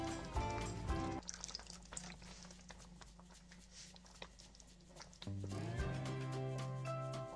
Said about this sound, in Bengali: এখন এর মধ্যে দিয়ে দেব 3 টেবিল চামচ মতো ভিনেগার